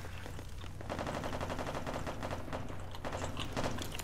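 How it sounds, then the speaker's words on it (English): Automatic weapon fire from America's Army: Proving Grounds chatters in rapid, evenly spaced bursts that continue for several seconds, fairly quiet and steady, with no talking. "I'm getting shot already."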